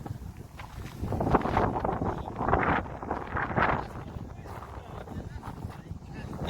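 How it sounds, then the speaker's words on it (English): Strong wind buffets the microphone at Edinburgh Castle, a loud rough gusting roar that rises and falls throughout, with people chatting intermittently underneath. "Very windy."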